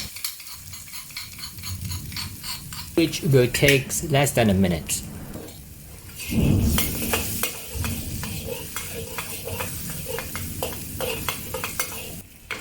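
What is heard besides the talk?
garlic and chili sauteing in a wok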